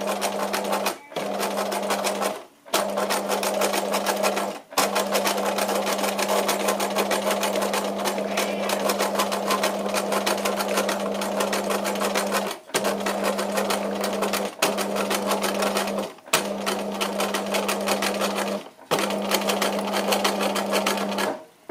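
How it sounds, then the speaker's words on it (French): Sewing machine stitching slowly around the rounded edge of a pocket, a steady humming drone in repeated runs of several seconds, broken by short pauses for repositioning. "je couds assez lentement pour bien suivre l'arrondi de ma poche"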